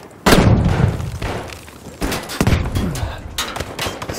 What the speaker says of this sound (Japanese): 手榴弾をくれてやる。